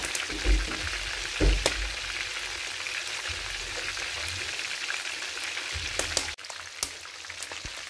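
Food sizzling and frying steadily in a pan at a home cooking contest, a continuous crackling hiss with occasional louder pops and soft low thumps, close and fairly quiet.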